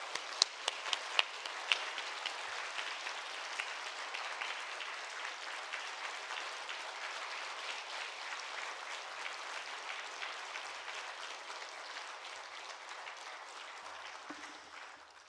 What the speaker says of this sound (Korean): 기대하는 마음으로 우리 박수로 우리 김용삼 목사님 모시도록 하겠습니다